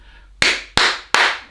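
Three loud, sharp hand claps in quick, even succession, close up, each with a short decaying ring in a quiet room.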